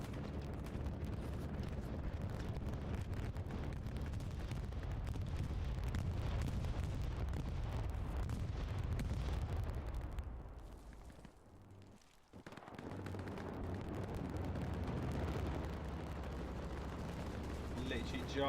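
Deep rumbling blasts from a bombing run in the Hell Let Loose battlefield game roll on almost continuously with distant gunfire, dipping briefly into a near-silent lull before the barrage resumes, while a player talks over it.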